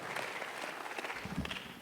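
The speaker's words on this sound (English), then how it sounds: "Oh, I got applause again." A meeting audience claps briefly at a community gathering, a soft scattered patter of hands at moderate distance, fairly faint and short.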